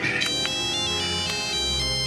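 A mobile phone ringtone plays loud and close, a bright repeating electronic melody with evenly spaced notes that carries on steadily alone.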